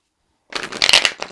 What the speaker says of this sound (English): I'll do one more riffle shuffle then.